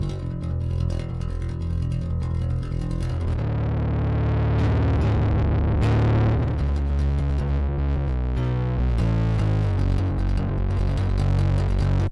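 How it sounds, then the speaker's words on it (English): Fuzzy, distorted bass tone layered over a clean low bass line, playing a continuous riff with sustained notes and no voices. "I am gonna blend the fuzz distortion with the clean bass signal"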